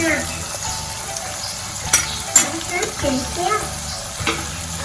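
Cabbage and potato curry gets stirred in a pan, a close, steady frying sizzle with a couple of sharp spoon scrapes and clinks against the metal.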